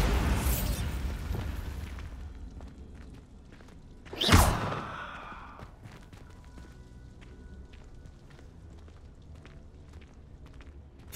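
A Bombarda spell explosion in Hogwarts Legacy: one sharp, loud blast with a whooshing burst a few seconds in. Quieter scattered game noises come before and after it.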